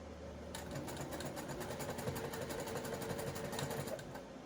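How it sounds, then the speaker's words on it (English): A regular household sewing machine stitching a doll's blouse in a fast, steady rhythm, running continuously at moderate volume with a faint motor hum underneath. "So I'm just using my regular sewing machine."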